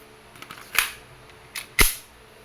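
Two sharp gas-blowback pistol shots from a WE airsoft Glock 17 F-Series with a silver slide, about a second apart, each a crisp snap with a brief mechanical clack before it, loud and close in an otherwise quiet space.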